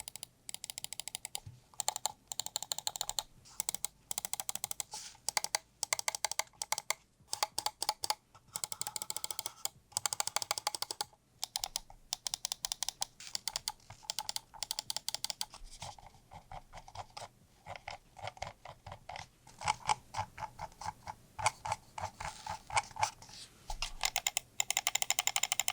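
Rapid, crisp clicks of computer mouse buttons pressed in quick bursts and steady runs, close and fairly loud, sounding much like keyboard tapping with no voice.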